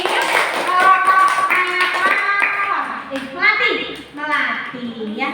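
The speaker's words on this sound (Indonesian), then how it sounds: "Kasih tepuk tangan buat kelompok terakhir" Children clap for the last group in a classroom, a run of lively claps mixed with voices, the noise rising and falling with short gaps.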